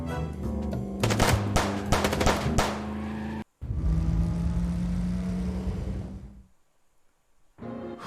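Bursts of rapid gunfire in the Chicken Police video game, a dense volley of shots crackling in the first few seconds, then a sustained loud rumble that drops into near silence before sound returns.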